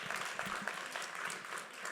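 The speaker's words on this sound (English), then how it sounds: "Y'all can clap it up for that." A short burst of audience clapping at a live entertainment music careers panel: a close, busy patter of many hands that stays fairly steady for a couple of seconds.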